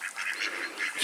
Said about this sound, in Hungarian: A kacsák mindjárt megijednek tőlem